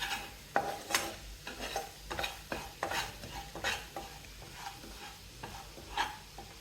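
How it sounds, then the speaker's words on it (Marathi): A spoon stirs gram flour and semolina roasting in ghee in a pan for mung dal halwa. The scraping is steady and repeated, with a soft sizzle underneath and occasional sharper clinks, fairly close and moderately quiet. "आता हे आपल्याला उत्तम प्रकारे रोस्ट करून घ्यायचे आहे तुपामध्ये"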